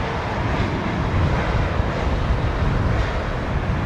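A Lufthansa airliner in old grey livery at London Heathrow Airport gives a steady, loud broadband jet roar that holds evenly throughout, with no voices.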